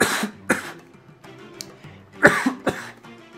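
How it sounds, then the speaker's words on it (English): A person coughs and clears their throat in several harsh, separate bursts, close to the microphone, with short quiet gaps between them. "I was just coughing out my lungs there"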